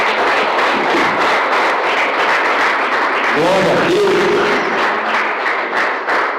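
A church congregation claps loudly and steadily throughout, a dense wash of applause with a voice speaking over it partway through.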